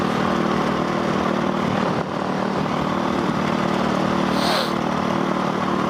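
A Yamaha WR450F motorcycle fitted with an FMF exhaust holds a loud, steady engine drone close by, with a brief dip partway through and no talking.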